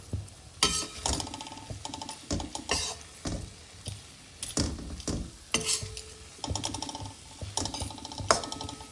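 Ridge gourd being stirred with gram flour in a pan, a spoon scraping and clinking in an uneven rhythm over a faint sizzle, close and moderately loud, with no talking.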